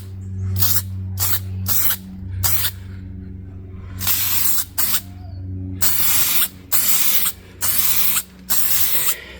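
Repeated bursts of aerosol spray coat a Jeep Grand Cherokee rear subframe in black paint, loud and close, with short and longer hisses separated by brief pauses over a low background hum.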